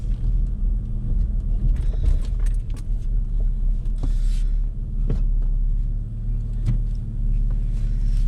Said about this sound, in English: You hear the throttle body sucking air, man.